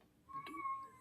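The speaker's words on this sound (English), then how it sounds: "That's a cat" A single cat meow rises out of a quiet room, a short tonal call of under a second with no talking around it.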